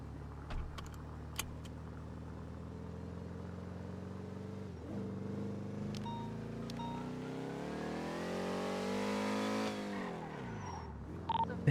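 A car revs and accelerates in the GTA NoPixel role-play game, engine pitch climbing then dropping, with brief tire squeals, moderately loud and steady.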